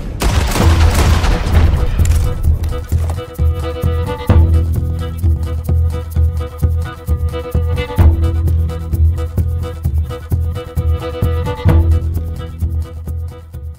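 Gunfire in the Red Dead Redemption 2 video game: heavy booming shots and rapid volleys repeat over a driving music score, loud and dense throughout with a brief voice at the start.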